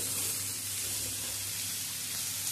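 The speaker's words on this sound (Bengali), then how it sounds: "সমস্ত সবজিগুলো দিয়ে ভালো করে নেড়ে ছেড়ে নিচ্ছি।" Mixed winter vegetables with flat beans being stirred in a hot pan, a steady broadband sizzle and hiss with faint scraping, close and constant without speech.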